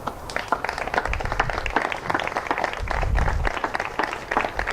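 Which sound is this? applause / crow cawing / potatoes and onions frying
applause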